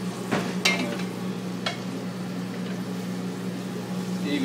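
Lamb osso bucco pieces sizzle in a frying pan with a low, steady crackle and hiss. A few sharp clatters come early as the pieces are turned over, and a faint hum runs underneath.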